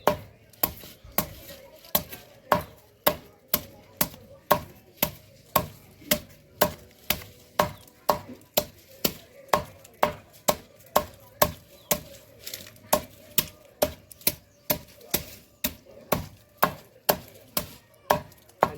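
Fodder is chopped into chaff by a hand-made cutter for goats, giving a long, steady series of sharp, evenly spaced chopping strokes, roughly two per second, close and clear with no talk.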